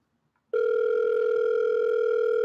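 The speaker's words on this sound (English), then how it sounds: "So I'm going to give Ed a quick call because he's supposed to be here" A steady telephone dial tone sounds while a call is being placed, loud and unbroken, starting abruptly after half a second of near silence and holding alone to the end.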